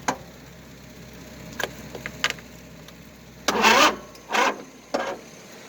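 A Husqvarna YTH2454 lawn tractor on jumper cables in a failed cold start: a few short bursts of the starter cranking the engine, separated by quiet gaps and faint clicks, without the engine catching.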